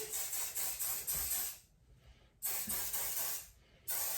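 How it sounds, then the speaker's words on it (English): Strong-hold hairspray hisses out of an aerosol can in three close, loud bursts, each about a second and a half long, separated by short pauses, while a flapper-style hairdo is set. "Your last step is to take a stronghold spray"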